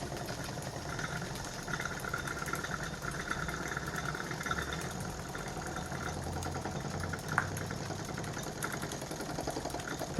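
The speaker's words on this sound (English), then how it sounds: "that's just me running 3 Ernst & Planck steam engines" Three Ernst & Planck model steam engines run together in a steady, faint mechanical churn with a fine rapid chuffing and rattling texture, continuous throughout with one small knock midway and no talking.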